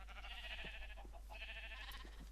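Sheep bleating in Minecraft, a couple of drawn-out wavering bleats over a steady low hum, fairly quiet.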